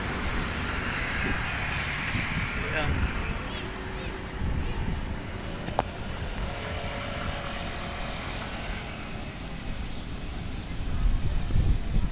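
Wind blows steadily across the microphone at Manila Bay, a broad rumbling rush that stays loud and constant throughout.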